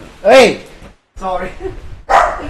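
A pet dog gives a few loud yipping barks close by, with a brief spoken apology between them.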